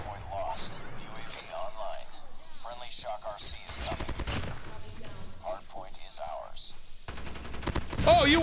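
Rapid bursts of automatic gunfire from the video game COD Mobile come in clusters, with a player talking between and over the shots.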